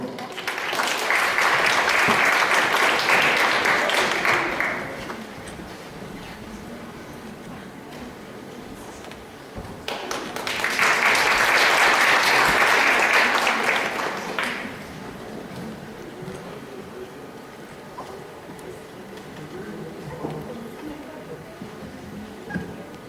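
An audience applauds at a Ukrainian poetry event: two sustained rounds of clapping, each a few seconds long, with a host's voice over the quieter stretch between them.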